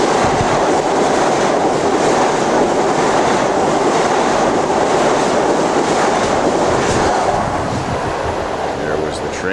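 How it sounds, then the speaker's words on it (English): An express train rushes through a suburban commuter station without stopping, producing a loud, continuous roar with wheel rattle and clatter that lasts throughout. "Oh, this looks like it's an express. It's not stopping here."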